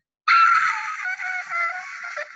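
Children scream together during a classroom sing-along of a rowing song with an alligator verse, a loud sustained high-pitched shriek lasting about two seconds with no speech over it.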